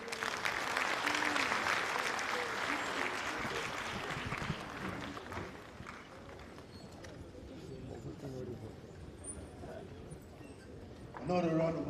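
An audience applauds the Vice President after his address at the 5th African regional land conference. Loud clapping dominates the first few seconds, then thins and fades beneath quiet voices before a burst of sound at the end.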